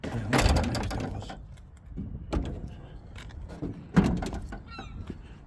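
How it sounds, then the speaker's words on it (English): Doors being opened, a few clunks and rattling mechanical latch sounds separated by short pauses, close and moderately loud. "let's open these doors."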